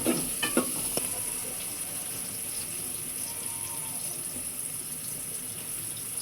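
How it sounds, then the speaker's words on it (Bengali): Salted onions are stirred in a frying pan while cooking chicken-skin biryani, a few sharp scrapes at the start, then a steady soft sizzle with faint running-water hiss in the background. "এখন এটা পেঁয়াজের সাথে মাখিয়ে দেবো লাড়া দিয়ে"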